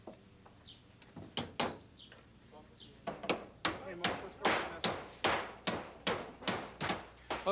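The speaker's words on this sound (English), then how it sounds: "when you nail the nail in that pilot hole" Sharp hammer strikes driving nails through pilot holes into wooden deck boards on a terrace, slow and irregular at first, then a steady run of loud, close blows with brief ringing decays.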